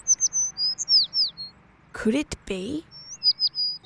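Short high bird chirps repeat at a steady clip, clear and close, pausing briefly while a voice speaks in the middle.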